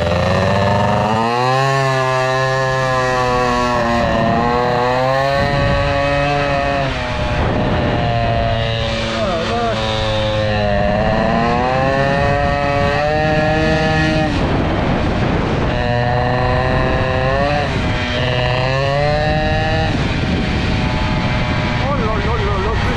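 A Peugeot 103 moped fitted with an Airsal 65 hybrid air-cooled kit, running during carburetor tuning: a loud, close two-stroke buzz whose revs rise and fall again and again between idle-like stretches.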